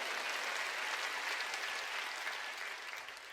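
A church congregation at a Wednesday worship service breaks into dense, continuous applause, a broad even wash of many hands clapping for several seconds and fading slightly toward the end.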